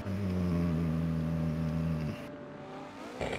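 Car engines in a Forza Motorsport 7 tandem drift tournament drone at a sustained, steady pitch for about two seconds, then cut away to quieter tire and engine noise. The sound is close and fairly loud, with no talking.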